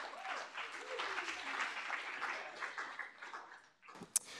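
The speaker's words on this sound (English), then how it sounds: "So if we give him a round of applause." A room of students at a K-State student government meeting applauds a member of the week, a steady moderate clapping that fades near the end and is cut by a sharp click.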